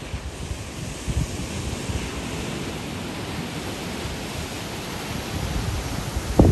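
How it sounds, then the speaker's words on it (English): Ocean waves wash onto the shore in a steady broadband roar, with wind buffeting the microphone. A slightly stronger surge arrives near the end. "Relax to the sound of nature, the beautiful sound of the waves."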